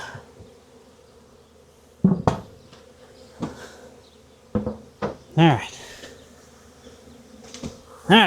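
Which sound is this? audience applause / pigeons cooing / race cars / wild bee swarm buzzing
wild bee swarm buzzing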